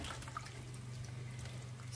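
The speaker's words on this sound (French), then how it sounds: "Donc j'ai mis un peu de l'eau tiède." Lukewarm water runs or is poured steadily, a soft continuous trickle with faint drips over a low hum, close by and with no talking.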